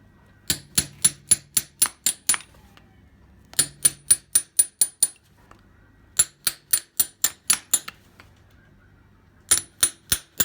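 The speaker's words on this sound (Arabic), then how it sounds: "قص الزايد من المسامير" Nippers clip off the excess horseshoe nail ends on a horse's hoof during shoeing. Sharp metallic snips come in quick regular runs of about six to eight, in four bursts separated by brief pauses, close and crisp.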